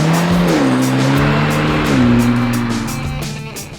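A 2021/22 Hyundai Elantra N Line with a 1.6-liter turbo engine accelerates hard on all-season tires, its loud, close engine note climbing steadily and dipping at gear shifts.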